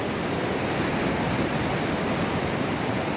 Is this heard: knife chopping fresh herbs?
no